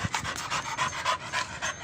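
A female American Staffordshire pit bull pants rapidly on a hot day, close and steady, with quick rhythmic breaths repeating about six times a second and no talk.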